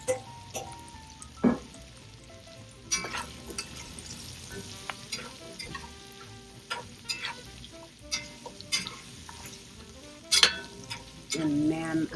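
Carrots, broccoli and pork butt sizzling in a stir fry, a soft steady crackle with occasional stirring scrapes and clinks, quiet and close, no voices.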